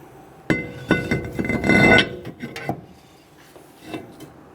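Metal clanks and knocks as a brake rotor is fitted onto the rear wheel hub of a 2010-2019 Ford Taurus, a loud burst of scraping contact followed by a few lighter taps and clinks, close up with no talk.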